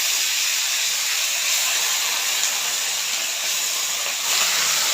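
Jute leaves hitting hot oil in a pan with green chilli and browned garlic, setting off a loud, steady, close sizzle that hisses without pause throughout.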